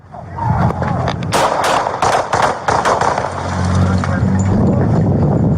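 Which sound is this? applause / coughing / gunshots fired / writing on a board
gunshots fired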